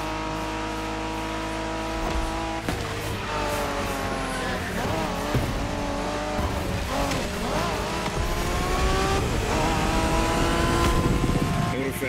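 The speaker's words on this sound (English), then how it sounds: "We're going for some proper Japanese street racing." Race cars roaring through a Japanese street race in The Crew Motorfest video game, engines revving and shifting steadily and loudly for the whole stretch, with tire noise and a music-like drone underneath.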